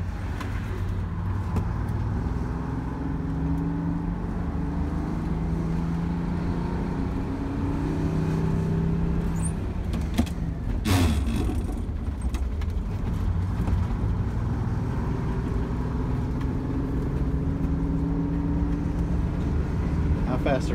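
A GM 4104 bus engine drones steadily throughout, with rising and falling pitch as it accelerates and shifts gears. Loud and close, with people talking over it.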